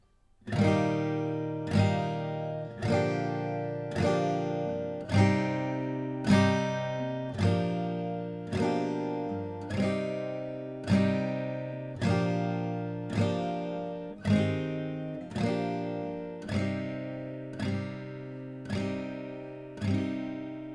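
A guitar strums a slow chord progression, each chord ringing out and fading before the next, steady and unhurried with no voices.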